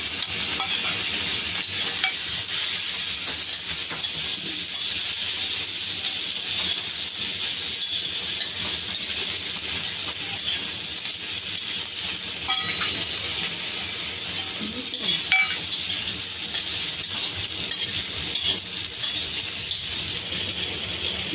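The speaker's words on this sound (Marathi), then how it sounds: "मसाला आपला भाजून झाला आहे" Masala of chilli, ginger and garlic roasting and being stirred in a pan, a steady close sizzle with soft scraping and occasional clinks, running continuously with no talk.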